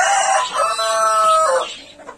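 Aseel and desi chickens cluck and squawk loudly nearby in drawn-out calls, with no one speaking.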